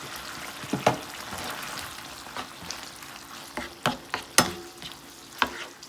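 Feta cheese and heavy cream go into a hot pan of tomato cream sauce for shrimp pasta, giving a soft sizzle broken by several sharp stirring and spoon clacks toward the end.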